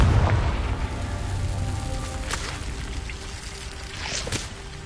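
A Confringo fire spell explodes in the video game Hogwarts Legacy: a heavy, rumbling boom opens the moment and rolls away into a noisy, crackling wash with a few sharp bursts near the end.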